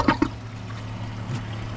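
Water siphoning out of a Kohler Highline Arc toilet bowl, a faint gurgling trickle after two short splashes at the start.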